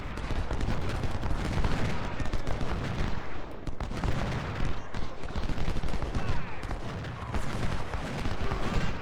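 Artillery fire in the Civil War strategy game Ultimate General, at the Battle of Chickamauga: dense, continuous booming cannon and gunfire volleys overlapping without pause, loud throughout.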